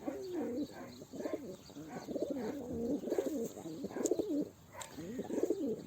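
A tired tumbler pigeon coos repeatedly in close, rhythmic bursts of low throaty calls, with faint background sounds and occasional chirps.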